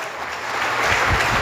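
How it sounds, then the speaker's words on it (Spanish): Members of a church congregation clap during a sermon, with applause swelling from a quiet start into a fuller, denser round over a second and a half. "Dale fuerte ese aplauso al Señor."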